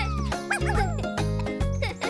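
A cartoon puppy barks in quick repeated yips over a loud, continuous children's music track, the barks bright and close.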